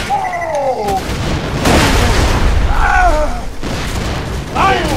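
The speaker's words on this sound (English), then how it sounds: "Grenade!" A grenade bursts in the PC shooter Borderlands 2, a loud, booming blast over a second long, with excited voices talking and shouting before and after it.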